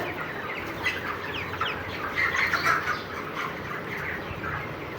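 Chickens inside a poultry house on a small farm, with scattered clucks and squawks rising over a constant low background murmur of the flock.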